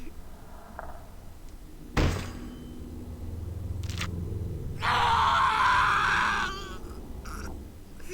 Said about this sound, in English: See now, Yoshiki, he knows how to scream.